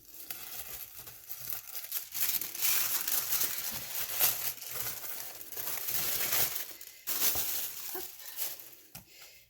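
Gift wrapping paper torn open by hand, giving steady crinkling, crumpling and ripping paper noise across the whole span at moderate closeness, with a brief pause near the end and no one speaking.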